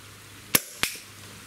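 Umarex 850 M2 CO2 air rifle firing RWS Hobbies pellets: a loud, sharp crack, then a second sharp report about a third of a second later, both close and clear over a quiet background.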